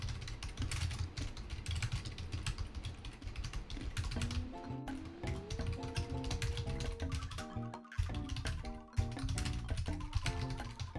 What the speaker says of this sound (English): I hope you enjoy the sound of furious typing